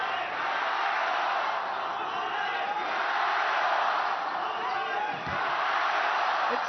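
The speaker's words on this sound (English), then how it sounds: "It's so great to hear this crowd." A basketball arena crowd at a FIBA women's Olympic qualifying game between Puerto Rico and China cheers in a broad, sustained roar, with a commentator talking over it.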